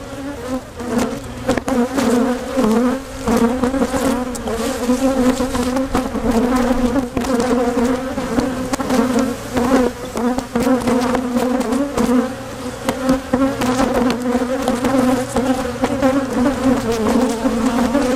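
Dense, continuous buzzing of many honeybees swarming close around a hive opened for splitting, steady and loud the whole time.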